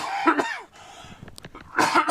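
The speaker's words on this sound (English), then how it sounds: "Still got this persistent cough." A persistent cough from a man: two or three harsh, close coughs at the start, a pause, then another burst of coughing at the end.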